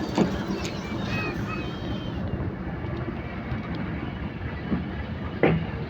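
A train rumbles past close by on line 2, a steady heavy roar of iron wheels on rail with rattling carriages and occasional squeals and clanks, and a voice speaks over it at moments.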